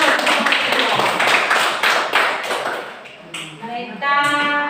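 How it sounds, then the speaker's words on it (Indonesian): A classroom of students claps together in dense, sustained applause that tapers off after a few seconds, followed by a brief bright ringing tone. "kita berikan aplaus"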